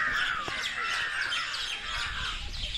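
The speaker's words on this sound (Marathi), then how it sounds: "उधर वेगवेगळे पक्ष्यांचे आवाज येतात." Various birds calling near Ramdara Temple at Loni Kalbhor, Pune, with crows cawing among bright chirps, a dense steady chorus at moderate distance.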